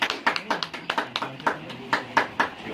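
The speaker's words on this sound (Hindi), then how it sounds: "ऐसे हमारे महबूब साहब के लिए जोरदार तालियां" Applause at an honouring ceremony for Mahboob Sahab: a small crowd claps in a steady, rhythmic beat of sharp, fairly close hand claps that continues throughout.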